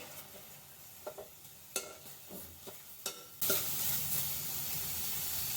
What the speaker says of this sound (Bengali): কড়াইয়ের ভেতরে একটা পেঁয়াজ কেটে দিয়েছি বড় সাইজে